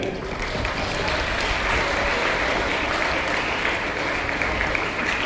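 A school audience at a Jawahar Navodaya Vidyalaya applauds a new principal with dense, sustained clapping from many hands that holds steady for the whole stretch.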